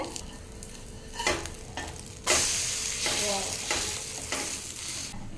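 Ridge gourd bread egg toast fries on a pan after being flipped with a little oil, giving a soft, continuous sizzle with a few spatula scrapes and a louder burst of frying partway through.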